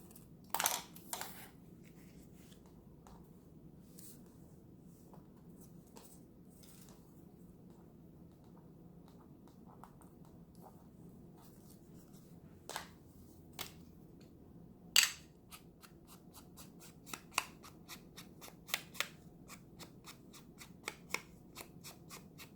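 Scissors snip through a paper paint chip tag for a junk journal, a few sharp crisp cuts coming close together and quiet, first near the start and then more often toward the end, over a steady low hum.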